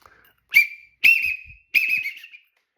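Three separate whistled calls, each a sharp rising note that holds briefly before fading, spaced about half a second apart with silence between them. A person imitates a widgeon duck's whistle.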